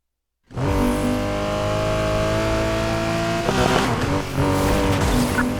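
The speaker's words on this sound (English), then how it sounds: "Just started chasing a Porsche 911." Engine roar and tire noise from a car in a police pursuit in Need for Speed Heat, chasing a Porsche 911; a loud, steady revving drone runs throughout, with rougher skidding bursts toward the end.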